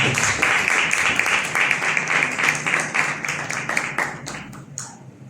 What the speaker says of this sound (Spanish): Denle un aplauso al Señor porque nunca lo va a abandonar